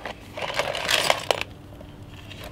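Metal handgun parts set into the basket of an ultrasonic cleaner, a close burst of clinking and rattling metal on metal that peaks with a few sharp knocks and then dies away.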